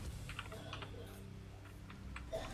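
Someone types code for a Minecraft mod on a computer keyboard, producing scattered light clicks and short bursts of keystrokes at an irregular pace, close by over a faint background hum.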